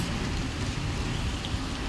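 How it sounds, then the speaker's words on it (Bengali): Dense, steady rain hisses continuously, loud and close, with no voices. "এই তো দেখুন কত জোরে জোরে বৃষ্টি হচ্ছে"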